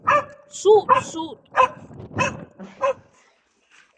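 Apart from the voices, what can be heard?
dog barking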